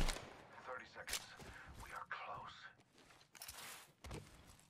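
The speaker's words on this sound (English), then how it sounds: "I hear them shooting" Distant gunfire in the Apex Legends video game, bursts of shots popping in and out across the clip with voices talking in the background.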